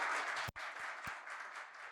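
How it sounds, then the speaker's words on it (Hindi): An audience bursts into loud, continuous applause at a PW MedEd launch event honouring the teachers and team, with a brief break partway through. "एक बार जोरदार तालियां हमारे टीचर्स और हमारी टीम के लिए।"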